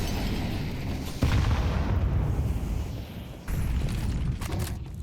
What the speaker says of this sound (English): Aaron, nade goes in